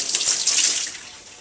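Distilled water runs over and rinses a glass during mirror silvering: a steady, broadband splash and trickle that stays fairly loud and then eases off slightly toward the end, with no voices.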